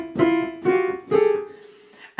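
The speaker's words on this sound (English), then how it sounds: "normally when we hit a dud note, it sounds kind of like this." Three short, blunt piano dud notes, each made by striking two adjacent keys together, sound one after another and decay quickly, close and moderately loud with no talking.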